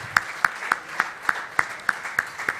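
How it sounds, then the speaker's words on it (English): An audience at a sports awards ceremony claps in a steady, evenly spaced rhythm, about three claps a second. The beats are crisp and fairly loud over a soft background hum. "Let's give her a huge round of applause."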